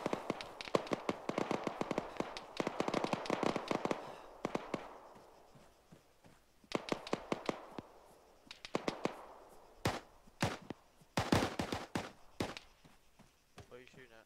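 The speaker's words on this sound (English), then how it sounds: "What are you shooting at?" Rapid bursts of rifle fire in the ArmA 3 combat game, with clustered sharp cracks coming in several volleys and isolated single shots, heard at mid distance under radio chatter.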